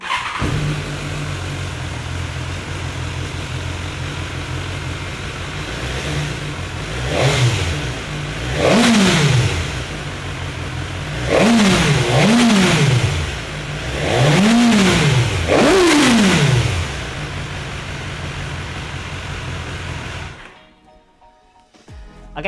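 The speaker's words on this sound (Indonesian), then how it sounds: "sekarang mending langsung kita nyalin aja biar kalian nggak penasaran sama suara knalpotnya" A BMW S1000R motorcycle revs its exhaust repeatedly in four bursts, each climbing sharply and falling back, between a steady idle, loud and close, with no talk, before the engine cuts off near the end.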